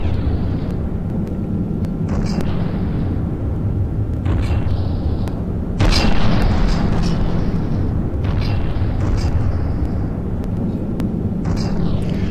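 Secondary cannons firing in From The Depths on a flying multi-barrelled cannon craft: repeated loud booming blasts over a steady low engine drone, with a heavier burst near the middle.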